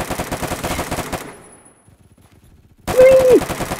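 Rapid automatic gunfire in the online shooter Phantom Forces rattles loud and close for about a second, stops into near silence, then another loud burst of shots kicks in.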